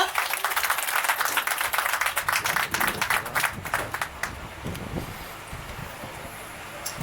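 Audience at a plot launch ceremony for a garden development in Coimbatore claps in a dense burst of applause that gradually thins and fades, mid-distance outdoors with some wind noise and a voice briefly audible.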